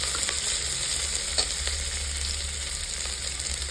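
Onion fries in a pan for a coconut milk green peas rice, a constant soft sizzle with faint stirring scrapes, no voices.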